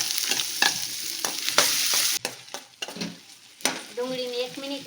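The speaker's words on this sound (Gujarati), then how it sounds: "ત્યારબાદ આપણે ડુંગળી એડ કરી દઈશું." Onions sauté in hot oil with cumin and asafoetida in a pan, giving a crackling sizzle broken by several sharp clinks and scrapes of a stirring spoon, with no talking.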